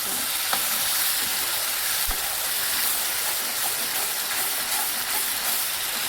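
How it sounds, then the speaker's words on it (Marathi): Masala spices fry in hot oil for a rajma curry, giving a dense, steady sizzle and crackle close up that holds loud and even throughout. "मस्त फ्राई करून घेतला बघा अगदी तट तडतड करतोय"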